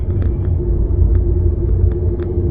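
A car drives steadily through town at about 40–45 km/h, giving a low, continuous road rumble with a faint engine hum and occasional small ticks, heard from inside the cabin.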